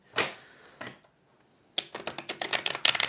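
Tarot cards are shuffled by hand: a couple of soft riffles, a short pause, then a fast run of crisp card flicks and taps close up, with no talking.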